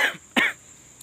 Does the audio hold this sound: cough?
yes